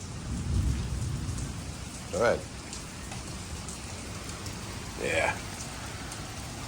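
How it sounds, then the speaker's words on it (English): Continuous rain pattering and hissing close by, with a low rumble early on and two short spoken remarks over the downpour. "But out here, it sure is raining."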